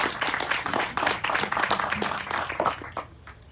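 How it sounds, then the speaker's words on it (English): An audience claps for a woman at a launch event, with dense overlapping claps that thin out and fade toward the end of the few seconds. "Let's clap for her."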